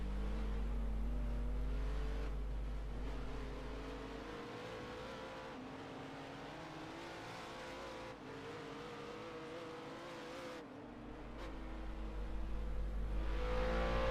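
Car engine drone from a replay in the racing game Project CARS 2, a steady loud hum with layered harmonics that runs throughout and swells louder near the end.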